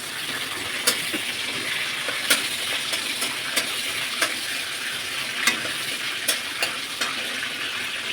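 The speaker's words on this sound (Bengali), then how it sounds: "তেলটা গরম হয়ে গেছে, জিরে, এলাচ, লবঙ্গ, তেজপাতা দিলাম," Whole cumin, cardamom, cloves and bay leaves fry in hot oil for Bengali ghugni, a loud, steady sizzling hiss with regular light scrapes and taps as a spoon stirs the pan throughout, no voices.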